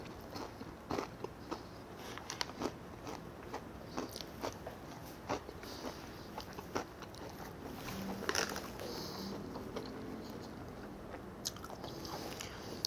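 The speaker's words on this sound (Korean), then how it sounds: "탕수육 먹어보겠습니다" Someone eats sweet and sour pork (tangsuyuk), giving soft irregular crunching and chewing bites that are quiet and close, with brief pauses between mouthfuls.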